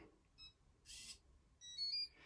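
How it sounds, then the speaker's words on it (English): A few short electronic beeps from a Blusafe Breeze fingerprint door handle as a finger is read, separated by a brief hiss, fairly faint and close by. "it goes green, you can hear a noise, a few beeps"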